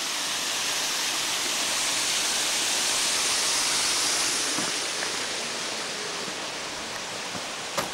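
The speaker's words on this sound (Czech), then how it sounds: "Voda šumí," Water rushing down a stream toward a mill, a steady hissing roar like a small waterfall, constant and fairly close, with a faint click near the end.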